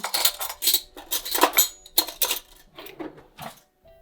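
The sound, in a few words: teaspoon scraping seeds out of a chili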